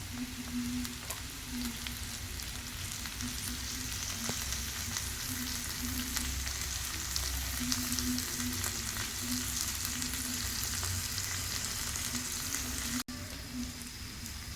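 Mussels fry in a pan with green chilies and a small tomato, giving a constant, dense crackling sizzle for the whole stretch. Faint stirring sits under the sizzle and no one speaks, apart from a brief cut near the end.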